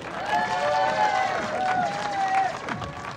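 Crowd at a women's recurve archery semifinal cheering and clapping, a steady roar with whistles and shouts rising over it, loud and continuous.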